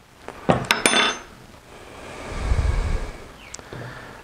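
A spoon clinks against a blender cup as moringa powder is tipped in, a few sharp metallic taps followed by a soft rustling pour.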